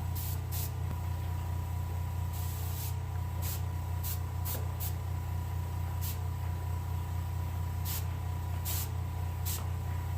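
An airbrush sprays black paint onto a white crappie fish for taxidermy, a short hissing burst repeated at intervals over a steady low motor hum from a compressor, close and fairly quiet.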